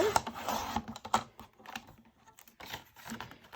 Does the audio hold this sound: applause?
no